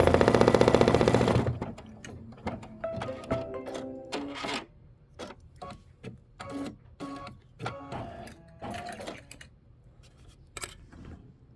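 A Kimberbell embroidery machine stitches an applique tack-down line in a loud, dense mechanical whir for about a second and a half, then gives way to scattered light clicks and snips.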